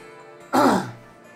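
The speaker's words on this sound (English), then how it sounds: "I always have to clear my throat." One close, throaty clearing of the throat by a man, a short rough burst that fades quickly into near silence.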